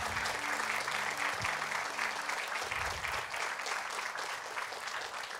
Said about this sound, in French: Est-ce que vous pouvez les applaudir, s'il vous plaît?